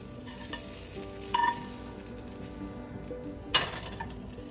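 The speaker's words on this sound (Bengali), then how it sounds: "এই হলো আমার চিলি চিকেনের চিকেন ভাজা রেডি, প্রায় নো অয়েল" Chicken pieces frying in a pan with almost no oil for chilli chicken, a soft steady sizzle with a couple of sharp utensil scrapes and clinks, close and moderate.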